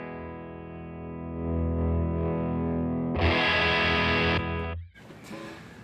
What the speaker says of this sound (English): you get even a better sounding fuzz and distortion